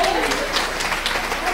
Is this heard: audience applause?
yes